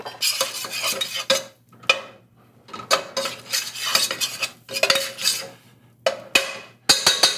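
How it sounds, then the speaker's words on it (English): Egg yolks and sugar are whisked in a bowl, brisk scraping and clinking strokes in uneven bursts separated by short pauses, close and fairly clear, with no talking. "I've just mixed the 4 egg yolks with the sugar, and I'm trying my best to quickly dissolve this"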